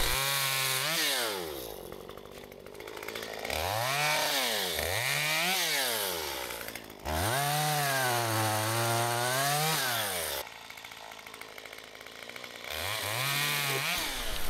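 A Stihl chainsaw saws through a windfallen pine outdoors, loud and close, its engine repeatedly revving up under load and dropping back to idle, with no talk.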